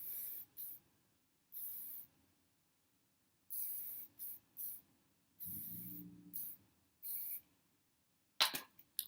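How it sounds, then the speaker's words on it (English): A series of short, soft hissing bursts of heat protectant spray onto hair comes in irregular pumps with quiet gaps between them, close by and fairly faint. "I go ahead and I spray this all over the hair"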